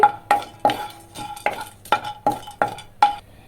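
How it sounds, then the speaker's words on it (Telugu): Cinnamon, cloves and cardamom are fried on low flame in a pan, heard as a quick rhythmic series of close scraping stirs with a faint ringing metallic tone, about nine strokes in a steady beat. "ప్యాన్ పెట్టుకొని కొంచెం హీట్ అయిన తర్వాత దాల్చిన చెక్క లవంగాలు యాలకులు కూడా వేసుకొని లో ఫ్లేమ్లో పెట్టుకొని ఫ్రై చేసుకోవాలండి"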